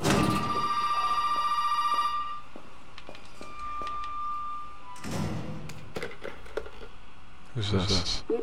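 A telephone rings upstairs in a house in the video game Resident Evil 7, a bright repeating electronic ring that stops after two seconds, followed by footsteps, thuds and clatter, then a short burst of ringing again near the end.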